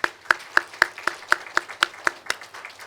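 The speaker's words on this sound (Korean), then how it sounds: "가셔서 목회 잘하시라고 우리 격려 박수 한번 하시겠습니다" Church congregation clapping together in encouragement during a Sunday service, steady rhythmic claps at an even beat, roughly ten sharp unison hits, fairly close and alone.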